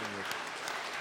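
A church congregation claps for an orchestra after its worship performance, a dense, steady patter of many hands filling the whole brief moment at even loudness.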